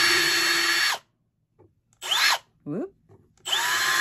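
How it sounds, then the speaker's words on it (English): Power drill fitted with a large bit bores into wood while making a rosette coat hanger, with loud sustained whines in two bursts at the start and end and a shorter burst between them, separated by near silence and a brief exclamation. "right over the same hole, you put the large drill bit and just"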